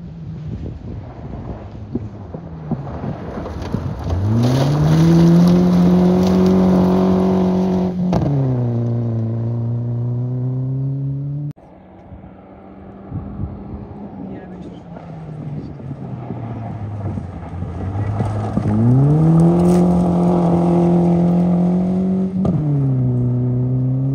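Mitsubishi Lancer Evo rally car at a mini-rally in Ropaži, loud engine climbing in pitch as it accelerates hard, then dropping as it passes, followed by a second similar rising run, with heavy wind buffeting on the microphone.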